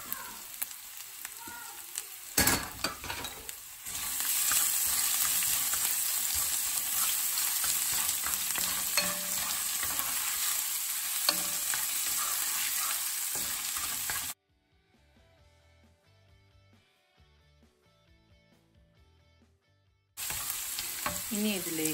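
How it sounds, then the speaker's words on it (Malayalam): Crushed ginger and garlic sizzle in hot oil in a pan while cooking a Kerala village-style shrimp roast, a loud steady frying hiss with stirring clatter, briefly cut to near silence before the sizzle returns. "ഇനി ഇതിലേക്ക് ഇഞ്ചിയും വെളുത്തുള്ളിയും ചതച്ചത്, പേസ്റ്റ് അല്ല, നന്നായി ചതച്ചെടുക്കണം."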